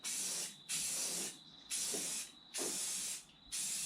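An aerosol spray can hisses in four or five short bursts of about a second each over rusty motorhome bonnet repairs, separated by brief pauses, close and clear.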